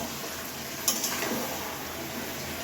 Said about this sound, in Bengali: আমাদের কষানো প্রায় হয়ে গেছে।